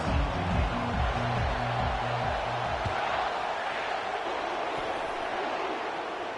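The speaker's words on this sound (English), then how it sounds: "Listen to the crowd energy here in the early going." A football stadium crowd roars in a steady, broad wash of cheering early in a college football game, with a rhythmic low thumping in the first half, continuous and fairly distant.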